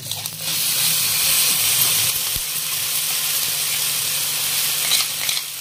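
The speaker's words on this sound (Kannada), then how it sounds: "ಈ ತರ ಮಿಕ್ಸ್ ಮಾಡ್ಕೊಂಡು ಒಂದ್ ಸ್ವಲ್ಪ ಫ್ರೈ ಮಾಡ್ಕೊಳ್ಳೋಣ್ರಿ" Curry leaves and ground chutney paste sizzle and fry in a hot pan, a steady loud hiss with faint stirring clatter, starting just after a quiet opening and continuing alone.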